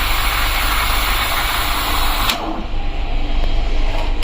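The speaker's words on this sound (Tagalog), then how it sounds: "to steam milk. Make sure that your milk is rotating to create a silky milk." An espresso machine steam wand steams milk for a latte with a loud, steady roaring hiss that cuts off abruptly partway through, leaving a quieter machine hum.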